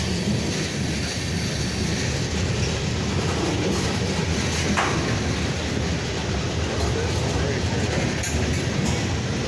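A slow eastbound Union Pacific manifest freight train led by four locomotives, number 6950 in front, passes near Lake Charles, Louisiana, with loud continuous rumbling and wheel clatter filling the whole stretch.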